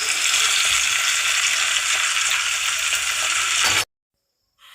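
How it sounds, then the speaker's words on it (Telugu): Onion and green chilli sizzling in hot oil for a curry tempering, a loud, steady frying hiss that runs unbroken and then cuts off abruptly, no voices. "కర్రీలోకి పచ్చిమిర్చి ఉల్లిపాయ అల్లం వెల్లుల్లి పేస్ట్ కూడా వేసుకొని పచ్చివాసన పోయేంత వరకు బాగా ఫ్రై చేసేసుకోవాలి"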